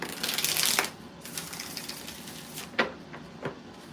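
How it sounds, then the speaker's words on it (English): Tarot cards shuffled by hand at a table during a live reading: a long, dense riffle in the first second, then quieter scattered shuffling with a few soft taps near the end. "2 more shuffles"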